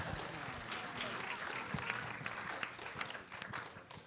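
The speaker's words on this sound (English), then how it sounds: "You can keep clapping." An audience claps at a film press conference, a steady, dense patter of applause that carries on without a break, moderately distant and even in level.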